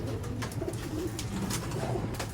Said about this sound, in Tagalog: Magpapakawala tayo ng mga ibon.